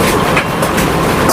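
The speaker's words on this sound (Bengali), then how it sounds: "চলে আসছে ট্রেন।" A train rolls into Chakdah railway station with a loud, close, rumbling roar and rattle of wheels, briefly heard without speech.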